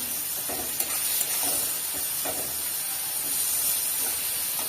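Water splashed into a pan of frying soft vegetable curry with peas, setting off a loud, steady sizzle and hissing steam that fills the whole stretch, with faint stirring scrapes now and then.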